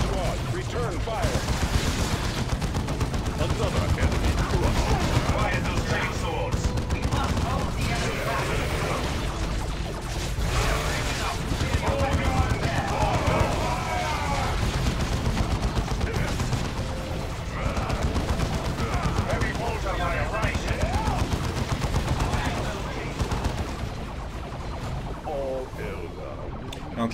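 Sustained gunfire and explosions fill a battle in the PC real-time strategy game Dawn of War II, with dense rapid shots and booms continuing loudly throughout; unit voices speak over the combat.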